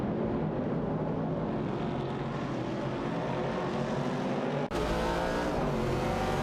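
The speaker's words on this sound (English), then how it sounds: "Super Lacroix is driving a Dodge Challenger and Buck Sizero is driving a Mercury Cougar" Race cars in a racing video game, a Dodge Challenger and a Mercury Cougar, drone loudly and steadily with continuous engine roar, a brief dropout near the end before the engines resume at full volume.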